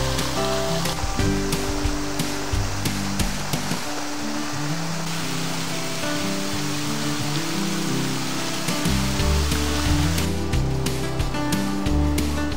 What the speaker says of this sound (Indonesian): Ada air pancut dengan air terjun.